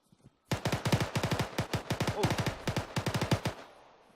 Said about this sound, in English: that's him firing in the sky